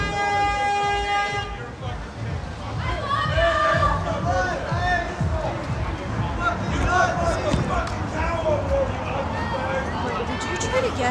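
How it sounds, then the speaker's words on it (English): A street protest crowd in Portland yells and shouts in a loud, continuous babble after a brief horn blast at the start, with voices talking close by throughout. "People are yelling."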